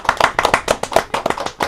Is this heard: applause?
yes